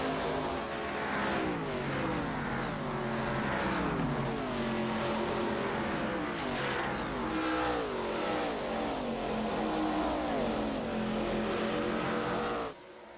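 Race cars in the ARCA Series at Pocono in a sim racing game, engines droning loud and steady with rising and falling pitch as cars run nose to tail, continuous throughout before dropping slightly at the end.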